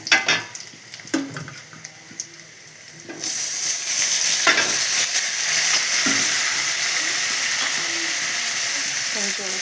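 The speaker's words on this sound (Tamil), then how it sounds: "வெங்காயம் வதங்கிடுச்சு. இப்போ தக்காளி போட்டுக்கலாம்." Tomatoes go into onions already frying in a pan: quiet stirring and clinks at first, then a sudden loud, steady sizzle and hiss of hot oil that continues with occasional scraping.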